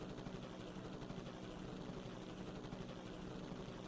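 A video-game helicopter gives a steady, low rotor drone with a faint chopping pulse throughout. It is fairly quiet and heard alone, with no talk.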